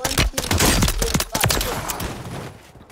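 A rapid, loud burst of automatic gunfire from a submachine gun in the video game Call of Duty, about six shots fired in quick succession, then tailing off.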